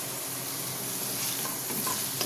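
Mixed vegetables for pav bhaji sizzle and fry in a kadai with a little salt, a steady close hiss with faint stirring scrapes and no talking.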